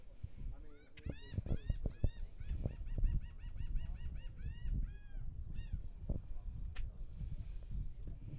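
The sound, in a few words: birds calling near SpaceX Starship launch site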